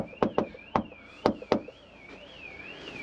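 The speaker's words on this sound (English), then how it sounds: "It's a good knock, it's a repo knock" Five sharp knocks rap on a door in an uneven pattern, close and distinct, while a wailing siren rises and falls faintly in the background.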